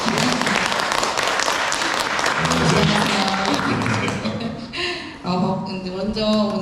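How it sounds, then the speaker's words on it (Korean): Audience applause at a book talk in a gallery cafe studio: dense clapping for several seconds that thins out, followed by a voice speaking near the end. "많은 박수 부탁드립니다."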